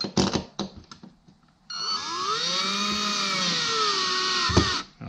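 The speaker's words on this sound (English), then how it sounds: "Let me try the screwdriver." A powered screwdriver drives a screw while a floating shelf is installed, opening with a few short bursts and taps, then a steady, loud, whining motor run of about three seconds that stops abruptly, close up.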